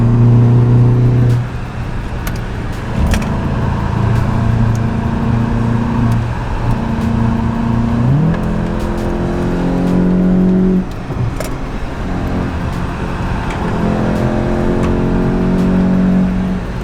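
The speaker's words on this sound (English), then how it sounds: "My car got an exhaust since the last time y'all seen it." A car with a newly fitted exhaust and fresh tires revs hard and drives off, its loud engine note rising through repeated gear changes and dipping between shifts, close to the microphone throughout with no talk.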